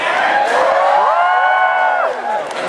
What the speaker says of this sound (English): I'm sure like half of you just clapping to be nice.